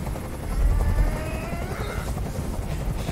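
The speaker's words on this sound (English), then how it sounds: "Tell that helicopter to get out of here." A helicopter in the video game Detroit: Become Human thunders overhead, a loud, continuous rotor roar with a deep low throb that swells early on and then holds steady, with no voices over it.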